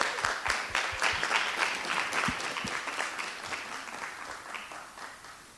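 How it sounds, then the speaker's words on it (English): Applause from an audience at a coding event, a steady wash of many hands clapping throughout, fairly distant and gradually fading toward the end. "Big round of applause for him."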